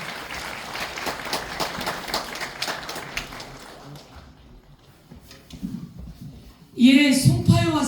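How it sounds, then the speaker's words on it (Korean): An audience claps to welcome a National Assembly member to the stage at a Seoul redevelopment and reconstruction policy debate. The applause is a dense crackle that fades out, and a loud voice comes in near the end. "여러분 자리 올라오실 때 따뜻한 박수로 환영해 주시기 바랍니다"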